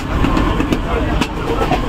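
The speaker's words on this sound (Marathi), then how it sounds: "गया, बहुत आगे गया रे ट्रेन" A train pulls away at Matheran, its steady rumble and faint clatter rolling on under a nearby voice.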